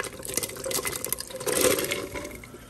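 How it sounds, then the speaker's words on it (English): Soaked butter beans tumbling into a pot with their soaking water, a wet splashing pour that swells midway and runs steadily close by, no talk over it. "So now we're going to add the beans to this."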